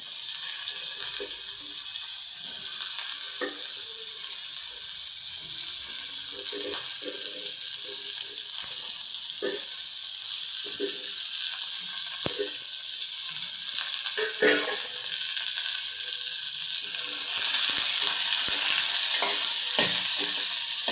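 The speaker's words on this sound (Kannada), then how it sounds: "ಇದು ಎಣ್ಣೆ ನೀಟಾಗಿ ಫ್ರೈ ಆಗಬೇಕು" Chopped bottle gourd sizzling in hot oil in a pan, a steady bright hiss throughout with intermittent scraping and stirring knocks from a spoon, close and continuous with no talking.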